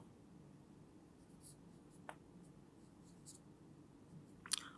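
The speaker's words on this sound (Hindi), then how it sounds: "फॉर्मेलिटी के लिए मैं आपको फर्स्ट टाइम ये लिख देता हूँ कि अब्दुल्ला" Handwriting with a pen, very faint and close: a few soft scratchy strokes over a quiet hiss, with a slightly sharper tap near the end and no speech.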